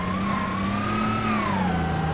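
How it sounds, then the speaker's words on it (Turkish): Car engine in the BeamNG.drive driving game revving and accelerating, a steady droning whine that climbs slightly in pitch, then eases back down, loud and continuous throughout with no talk. "Oha, arabanın sesine bak. Hızlandı lan. Arabanın sesi kendine geldi."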